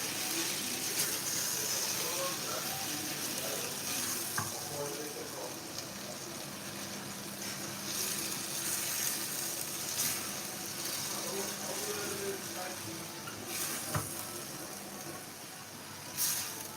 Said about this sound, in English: So now our pasta is going in. I'm going to mix together.